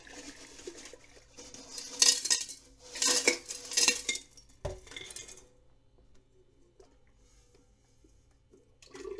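Small inquarted gold pieces tipped into a glass beaker, giving a cluster of bright clinks and rattles of metal on glass in the first half, then near-silence with a few faint knocks.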